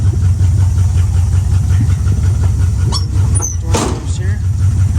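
A 1974 Dodge Challenger engine runs with its exhaust disconnected, a loud, steady, rough low rumble that goes on throughout, with a short squeal near the end and someone talking over it.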